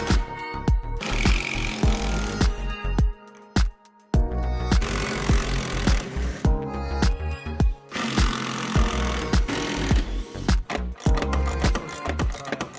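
Loud, busy mechanical whirring and clattering as Torx T30 bolts are run out of a Yamaha Viper snowmobile chaincase, continuous with short pauses and sharp impacts throughout.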